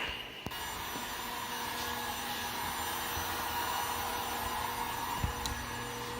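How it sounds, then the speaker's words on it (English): Heat gun post-heating vinyl camo wrap along a tape line on a Dodge Challenger: a steady, airy blower whoosh runs throughout at moderate distance, with a couple of faint taps and no speech. "we got Craig post heating around the tape line so that we know that we got a real strong adhesion all the way around"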